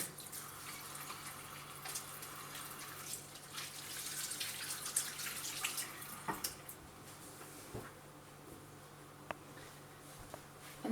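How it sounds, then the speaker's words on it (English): Tap water runs at a low steady hiss while hands are washed after handling raw egg in a home kitchen, faint and continuous, with a few soft knocks and clicks near the end. "I'm just going to wash my hands after handling the raw egg."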